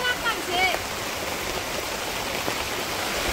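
Rain falls steadily in a Bangladeshi village, a continuous close hiss of drops on surfaces, with faint chirping and a voice briefly in the background.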